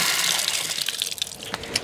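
Water rushing out of a Bradford White water heater as it is bled to release pressure after the supply is shut off, a steady loud hiss and gush that continues without a break and with no voices.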